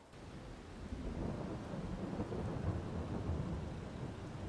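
Steady rain and rumbling thunder in Farming Simulator 22, a dense continuous wash of downpour with low rolling thunder throughout, alone with no voices.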